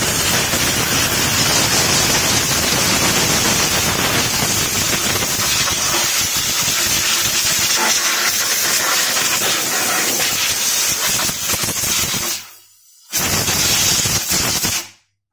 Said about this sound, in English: blow away any dust or leaves and crap, because you don't want anything to go into the spark plug hole